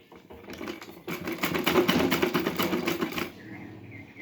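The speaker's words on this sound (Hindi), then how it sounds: "इन पे मैं एक मोटी सिलाई लगा लूँगी पहले इस तरह से ही।" A sewing machine runs a heavy stitch over gathered blouse fabric, a close, fast mechanical whirr that swells for about two seconds and then stops, with soft room noise before and after.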